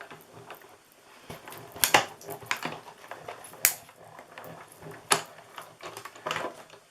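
A manual cut-and-emboss machine feeds cardstock for a flip-top treat box, giving sharp, irregular clicks and rattling crunches up close. The loudest snaps come every second or so, over a quiet background with no talking.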